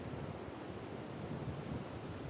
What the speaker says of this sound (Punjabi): ਥੱਲੇ ਸਾਡੇ ਨਦੀ ਵਗ ਰਹੀ ਹੈ